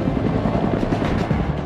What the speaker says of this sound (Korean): 바로 육군 항공의 꽃이자 지상전 핵심 전력 공격 헬기 코브라다.